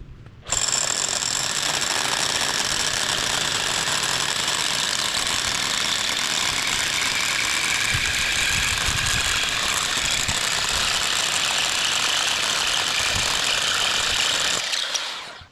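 A drill with a worn bit bores into a big rock to split it, a loud, continuous hammering rattle starting abruptly and running nonstop for about fourteen seconds before cutting off, with no talking.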